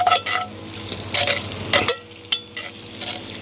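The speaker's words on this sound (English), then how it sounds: "Now that the bacon is rendering down nicely, the garlic can go in with the bacon" Garlic frying in rendered bacon fat in a pot for a Guinness pot roast, with repeated stirring scrapes and clinks over a steady loud sizzle and no talking.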